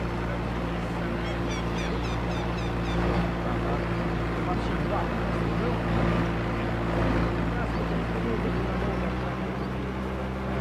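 A boat motor runs with a steady low drone throughout, mixed with wind noise and murmured voices in the background.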